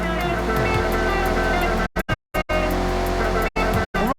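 A Mazda MX-5 engine revs in Forza Horizon, a steady droning engine note with rising harmonic sweeps, cut by several abrupt silent gaps as the sound drops out and returns.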